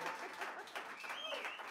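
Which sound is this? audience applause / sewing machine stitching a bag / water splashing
audience applause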